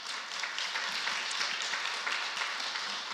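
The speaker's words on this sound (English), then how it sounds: "Another round of applause." Steady applause from an audience after a presentation at a church event, a dense even wash of many hands clapping at moderate distance with no voices over it.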